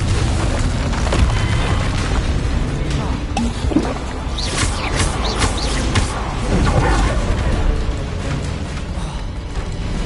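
Fiery spell blasts and booming impacts from Confringo and Incendio in Hogwarts Legacy on PS5, during a haunted Hogsmeade shop quest, with a steady dense rumble of crackling bursts and clanks running throughout at close range.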